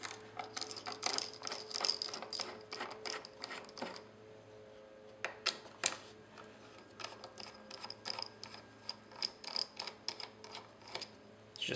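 A screwdriver loosens standard Phillips screws on the bottom of an Intel NUC mini computer, giving close, crisp ratcheting clicks in short irregular bursts with brief pauses between them.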